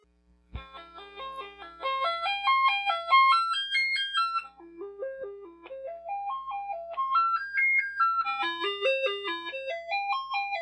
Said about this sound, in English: Let's see how bad the SID chip sounds now.